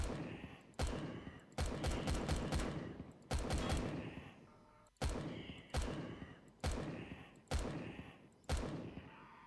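Gunfire in Empyrion Galactic Survival, a first-person survival game, with loud sharp shots fired in short bursts and single rounds, about eight separate volleys spread evenly across the stretch with brief gaps between them and no talking.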